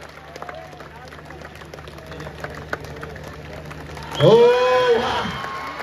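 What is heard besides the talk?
crowd applause for a dahi handi human pyramid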